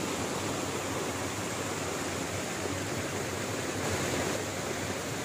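Steady, dense roar of a waterfall at the edge of a mountain, a continuous broadband rush heard up close with no pauses or voices.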